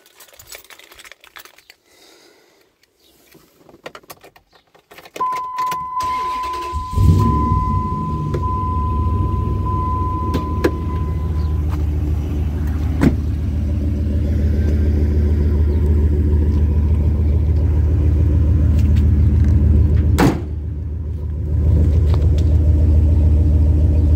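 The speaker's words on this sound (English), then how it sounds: "I'll fire it up now and you can hear it running." A 2003 Dodge Ram 1500 Laramie pickup with side-exit exhaust cranks briefly, fires up about seven seconds in, then settles into a loud, steady, close-up idle rumble that runs to the end.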